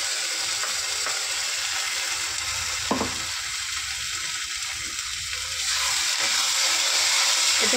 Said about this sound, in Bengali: ওই বাটা মশলাটা এতে দিয়ে দেবো।